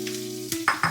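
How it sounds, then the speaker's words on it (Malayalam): Chopped onion goes into hot oil for prawn mezhukkupuratti, a steady hum giving way to a few short, sharp sizzling bursts close by. "നമുക്ക് കട്ട് ചെയ്ത് വെച്ചേക്കുന്ന സവാള ഇട്ട് കൊടുക്കാം."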